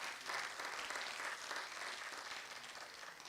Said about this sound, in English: Let us welcome Mr. Vinayak with a thunderous round of applause.